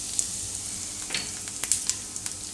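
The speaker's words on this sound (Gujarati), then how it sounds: "તો તેલ આપણું ગરમ થઈ ગયું છે, એમાં આપણે પહેલાં જીરું નાખીશું" Cumin seeds and a pinch of asafoetida hitting hot oil for Jain pav bhaji, giving a steady close sizzle with light scattered crackles and pops and no voices.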